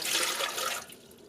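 Water, one and a quarter cups, splashes briefly into a bread maker pan in a short, bright pour that stops abruptly under a second.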